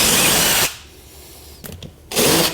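A cordless power drill spins out screws from a subfloor during vinyl plank flooring installation, giving two loud close whirring bursts separated by a quiet pause with a few small clicks.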